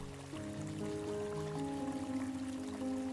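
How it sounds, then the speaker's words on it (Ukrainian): A quiet stream murmurs steadily, soft trickling water heard close and alone beneath a faint sustained tone. "Струмок тихо шепоче, його вода грає у світлі"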